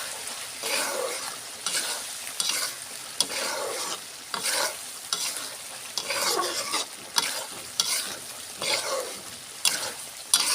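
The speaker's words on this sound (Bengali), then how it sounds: "একটু ভাজা জিরের গুঁড়ো গরম মশলা ভাজা দিয়ে আমরা কিছুক্ষণ নাড়াচাড়া করে নামাই নেব" Beef liver and tripe curry frying with roasted cumin powder and garam masala, stirred in repeated rhythmic strokes that bring sharp scraping bursts over a constant sizzle, close and loud, with no talk.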